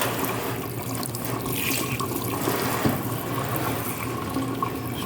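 Tap water runs into a sink while a fish is rinsed under it, a close, continuous splashing stream with small irregular spatters and shifts as the fish is handled, with no talking.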